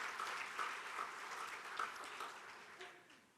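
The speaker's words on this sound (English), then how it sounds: "please give yourself a round of applause for supporting the educational mission of our school system" Audience applause fills a dinner event at a county hall of fame gathering, steady and fairly even for a few seconds with no talk over it.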